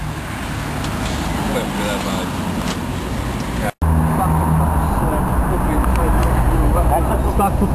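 Lambretta scooter engine revving with an air leak, a steady loud motor drone that cuts out briefly mid-clip and resumes, with people talking over it.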